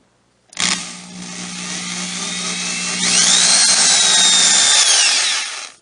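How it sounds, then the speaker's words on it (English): An electric drill fitted with a 5/64 inch bit bores pilot holes for hinges into cabinet box wood, a close, loud whine spinning up and rising in pitch as it bites, holding for several seconds before winding down. "To drill the pilot holes for the hinges, I use a 5/64 inch drill bit"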